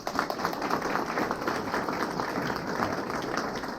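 A candidate-forum audience applauds, a dense, even spread of many hands clapping that holds steady for about four seconds with no voices over it.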